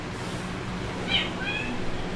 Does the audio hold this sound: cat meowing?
yes